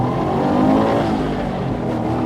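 A wide-body Subaru Impreza STi 22B restomod engine drones steadily with a throaty, rumbling tone, revving slightly, close by and continuous throughout.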